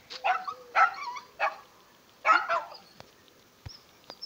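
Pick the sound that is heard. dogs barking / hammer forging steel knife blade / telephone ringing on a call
dogs barking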